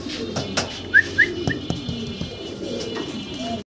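Fancy pigeons, Danish birds among them, coo at a caged pigeon farm; a few soft, brief calls and a couple of short whistly notes rise over a quiet, low background.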